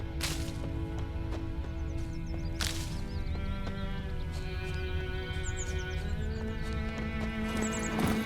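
Hooves of Geralt's horse Roach in The Witcher 3, a steady rhythmic clip-clop running under layered game ambience, with a couple of sharp cracks and distant bird calls.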